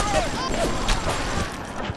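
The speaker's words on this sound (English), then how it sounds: "I got a Tommy gun" A Tommy gun firing in a World War II video game, with rapid bursts of shots that come and go over a couple of seconds under a voice.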